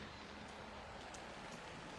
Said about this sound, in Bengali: কিন্তু এখন অবশ্যই বৃষ্টিটা একটু কমলো